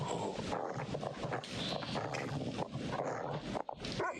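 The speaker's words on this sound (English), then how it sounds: "No, we're not throwing a rock at the dog." A dog in the video game The Devil in Me growls, whimpers and gives short barks in an irregular, close, fairly loud stream of vocal sounds.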